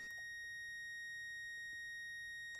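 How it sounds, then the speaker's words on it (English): A Snap-on EECT900 circuit tester confirms a proper ground with a steady, clean electronic beep that holds unbroken for a couple of seconds in an otherwise quiet room. "We hear a beep, the green indicator light is lit"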